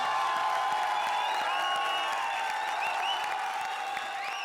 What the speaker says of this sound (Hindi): जोरदार तालियों से स्वागत कीजिए आज की हमारी वाइल्ड कार्ड एंट्री